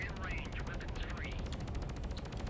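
Ship cannons fire in the space combat video game Fractured Space as a rapid, steady rattle of shots that runs throughout, loud and close, with a voice briefly talking over the first part.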